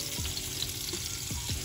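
Salmon fillets sizzle and crackle steadily in a hot pan during searing, a soft continuous frying hiss with a few low clunks, faint and without talk.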